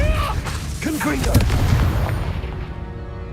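Confringo spell blasts in the Hogwarts Legacy video game, a loud booming explosion with a crackling burst that rolls off into a fading rumble, heavy and close.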